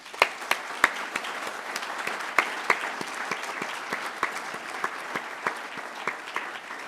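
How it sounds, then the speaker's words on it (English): An audience claps at a fire department promotional and achievement ceremony, a steady moderate patter of many hands with a few louder, sharper claps standing out near the front. "Let's give everyone a well-deserved round of applause."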